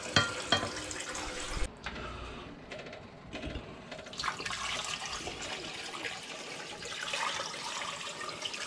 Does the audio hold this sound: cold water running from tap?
yes